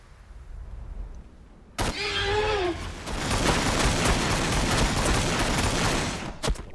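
Ork units panic firing their guns in Warhammer 40,000: Battlesector, a loud, continuous roar of overlapping fire that starts abruptly after a sharp crack and a squealing cry, ending with a couple of sharp hits.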